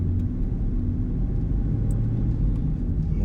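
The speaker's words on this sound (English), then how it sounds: "Just casually driving here through the neighborhood, it doesn't really feel any different." Dodge Charger R/T fitted with an aFe cold air intake cruising gently through a neighborhood, a steady low engine rumble and road drone at an even level without revving.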